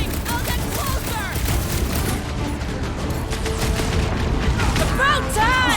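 Loud, continuous gunfire and booming blasts fill a battle in Marvel's Guardians of the Galaxy, with rapid bursts layered over game effects and voices calling out throughout.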